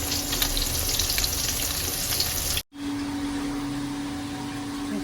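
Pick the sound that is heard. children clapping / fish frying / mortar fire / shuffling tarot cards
fish frying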